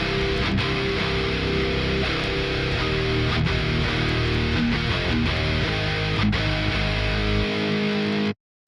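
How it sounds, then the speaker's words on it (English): Solemn Tones Behemoth bass plugin plays with distorted rhythm guitars in an alternative rock arrangement, a dense, loud, chugging wall of sound that holds for eight seconds and then cuts off abruptly. "And here I have the Behemoth bass, also from Solemn Tones."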